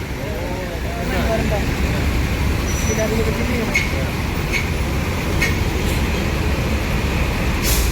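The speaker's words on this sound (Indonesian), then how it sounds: "A9188 busnya Cikarang ya, mau isi solar, jadi bus ini digeser." Rosalia Indah bus being shifted near a ticket office to go refuel, its engine rumbling steadily close by amid roadway noise, with a few faint clicks and a voice under the engine.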